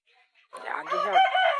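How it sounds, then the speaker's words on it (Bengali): A Kadaknath chicken gives a short, close, drawn-out clucking call, rising after a brief silence and holding for about a second. "এই যে করকনাথ, যেটাকে বলে করকনাথ মুরগি বলে"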